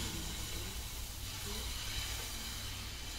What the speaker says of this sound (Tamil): நான் வந்து தோசை ஊற்ற போகிறேன்.